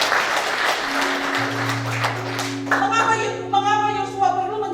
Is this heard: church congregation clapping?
yes